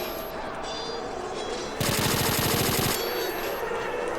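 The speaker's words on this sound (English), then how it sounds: "I can just leather bullets down there" A sustained burst of rapid automatic gunfire in S.T.A.L.K.E.R. Shadow of Chernobyl, fired down at an underground enemy, loud and evenly rhythmic for about a second over a low ambient hum.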